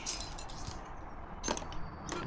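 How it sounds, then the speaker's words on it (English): Shards of a broken neon sign clink and rattle inside a plastic garbage bag, with bright glassy jingles in a few bursts, the loudest near the middle and end, heard up close with no talk. "The rest of the glass inside, I can hear it inside the plastic garbage bag here."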